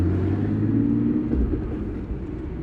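A 1999 Nissan Skyline GT-R R34 V-Spec engine at half throttle, a deep, steady rumble of a car accelerating from inside the cabin, low and sustained, easing slightly near the end.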